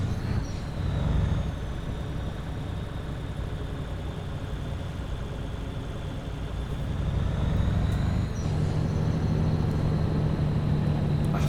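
Truck engine in the Euro Truck Simulator 2 driving game, a continuous low rumble that swells and eases, with a thin high whine running over the top.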